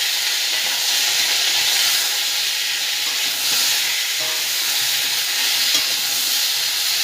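Bottle gourd stalks fry in a wok with salt and turmeric, a loud, steady hiss of sizzling oil running throughout with faint stirring beneath.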